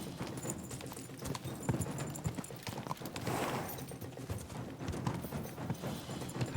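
Horse hooves gallop in Kingdom Come Deliverance 2, a quick steady clip-clop rhythm at moderate distance over game ambience, with a brief whinny partway through.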